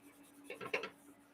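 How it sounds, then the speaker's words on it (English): Light rubbing on a cast aluminum piece to break up surface dirt before welding, heard as a faint, short, close-up scratchy scuffing burst of several strokes in the middle of near silence. "I'm just going to rub this thing down real light."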